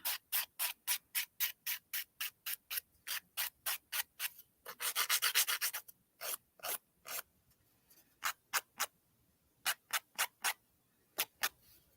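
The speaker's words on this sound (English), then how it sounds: "you end up filing them to the shape that you want" A nail file rasps across natural nails as they are shaped, close and crisp, in quick rhythmic back-and-forth strokes with a longer continuous rub midway and short pauses between sets.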